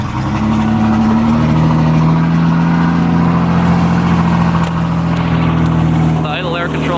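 A 1988 Ford Ranger engine idling roughly, with the engine note dipping and rising unevenly, loud and close, a steady drone throughout with a voice briefly heard near the end.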